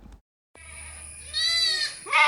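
Goats and their kids bleat at a livestock sale. A short cry comes first, then after a brief silence a long wavering bleat is followed by a louder, higher bleat nearby.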